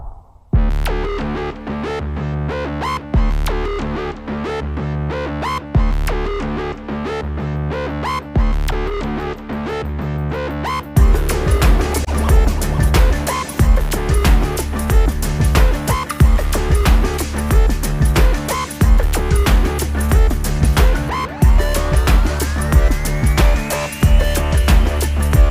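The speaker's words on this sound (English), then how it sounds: "all the sounds you're hearing in this video, except for the drums, are coming out of the Uno Synth Pro." Uno Synth Pro synthesizer playing sustained, buzzy and distorted tones over a steady drum beat, deep pulsing bass and layered notes throbbing on, growing denser and louder partway through, with no talking.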